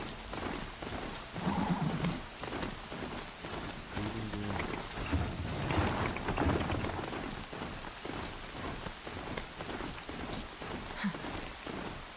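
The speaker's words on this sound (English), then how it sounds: "Rain's not so bad." Steady rain and rumbling thunder fill the outdoor world of the video game Horizon Zero Dawn, a dense continuous downpour with low rolling thunder and muffled thuds, heard loud and close without talk.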